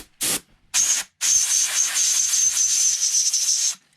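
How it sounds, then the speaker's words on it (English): Compressed air blasts into the optic mount cut of a Taurus GX4 pistol, first in two short bursts and then in one sustained hissing spray lasting over two seconds, loud and close. "A little bit of compressed air."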